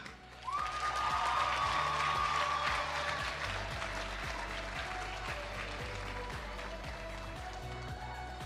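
Crowd applause for the third-place winner at a national ICT summit: a steady wash of clapping across a large hall, fairly distant, with a sustained tone and low rhythmic music running underneath.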